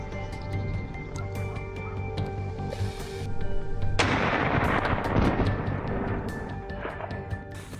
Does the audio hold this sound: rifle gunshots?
yes